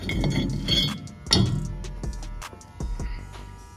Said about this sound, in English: Now I can pull off my rotor.